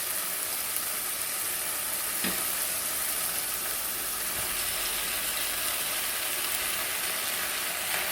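Lettuce greens and tomatoes stir-fry in a wok, giving off a constant loud sizzle with light scraping and clinking from stirring throughout.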